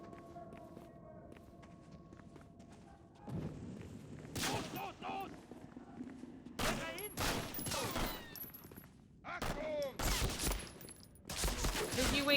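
Bursts of gunfire from a video game shooter, rapid volleys and single cracks clustered in the second half, with quieter stretches and footstep-like shuffles between.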